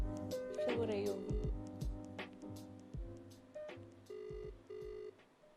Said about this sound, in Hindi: अगर तो इसने कॉल नहीं उठाया है तो I am gonna call Dhruv